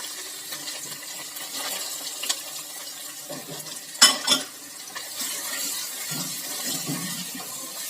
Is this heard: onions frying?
yes